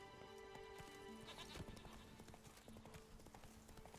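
Roach the horse's hooves clip-clop in a steady walking rhythm in The Witcher 3, with faint animal bleats and game music behind them. The sound is soft and near, and no one talks over it.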